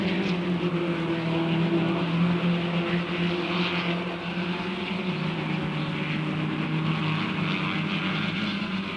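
Touring cars race on the full Grand Prix circuit at the 1964 British GP, a continuous loud engine roar that holds steady for several seconds with no one speaking.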